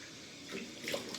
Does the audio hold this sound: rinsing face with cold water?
yes